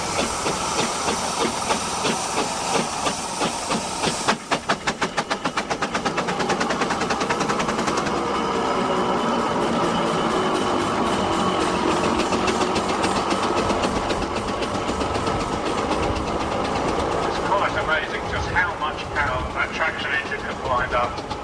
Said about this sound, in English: We've got a steam engine from the early part of the century